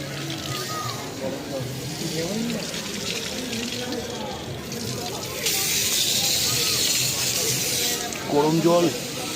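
Hot water runs from a tap outdoors near a beach, a steady hissing spray that grows louder partway through, with people talking over it.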